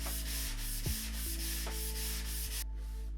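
Wood being hand-sanded with 220 grit sandpaper for a wooden terrarium, a steady continuous rubbing scrape over a constant background hum, with no voices.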